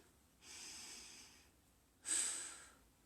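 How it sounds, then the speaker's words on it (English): Two long, slow breaths during a slow-flow yoga class, each a soft airy rush lasting over a second, the second louder and sharper, with a quiet pause between them. "3 deep breaths here."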